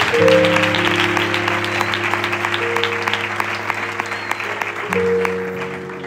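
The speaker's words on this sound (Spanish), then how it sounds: "Damos un fuerte aplauso" A church congregation gives a sustained round of applause, close and steady, over held keyboard chords that shift midway and swell again near the end.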